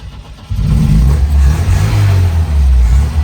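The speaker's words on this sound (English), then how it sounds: "Driving up the driveway." A car engine kicks in with a loud, close roar and holds a steady revving drone as the vehicle drives up a driveway, with no talking.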